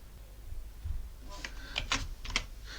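Someone types a command on a computer keyboard, a short burst of quick, close key clicks and taps after a quiet start.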